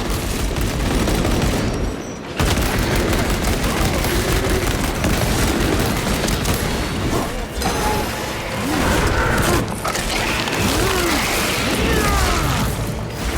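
Sustained turret gunfire in Space Marine 2 (Warhammer 40,000): a dense, unbroken roar of rapid shots and explosions that is loud and close, with a short gap near the start.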